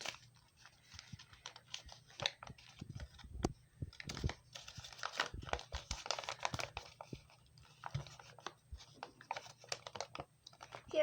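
A folded paper collector's guide for Itty Bitty Lost Kitties toys is unfolded, giving close crinkling, crackling and rustling bursts with short pauses between handlings.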